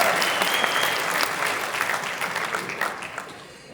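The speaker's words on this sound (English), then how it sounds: "they deserve another round of applause" Sustained audience applause fills the room at a panel event during a Midsummer Scream 2024 convention, dense and steady throughout, tapering slightly toward the end with no talk over it.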